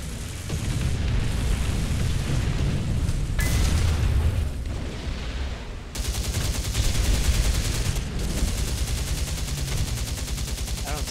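Sustained gunfire and booming hits pound a tank in a tank combat video game with M60, Chieftain Mk 3 and Leopard A1A1 main battle tanks, a dense, loud barrage of rapid shots and impacts running almost continuously throughout.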